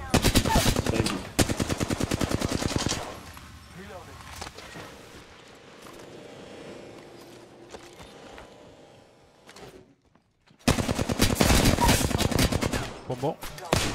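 Bursts of rapid automatic gunfire in the Apex Legends video game, loud and dense at the start, then quieter mechanical clatter and tones under talk, before another heavy stretch of automatic fire.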